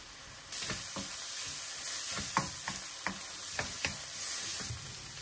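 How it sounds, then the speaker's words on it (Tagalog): Garlic and onion sauté in a hot pan with a steady sizzle, broken by several scraping stirs of the utensil, close and alone with no talk. "ilagay na natin yung garlic and onion. Tsaka natin ito isusute hanggang sa lumabas yung aroma nitong ating garlic at onion"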